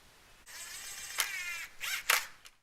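Screw being driven through a pocket door frame into 2x4 framing, heard as a whirring power-driver run in several bursts of varying length, close and fairly loud with no talk.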